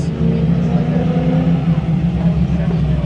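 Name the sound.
Chevrolet Camaro backing up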